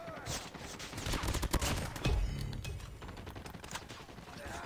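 Rapid gunfire rattles in the mobile shooter game COD Mobile, with dense bursts of shots and sharp impacts packed closely together over a few seconds, loud and continuous.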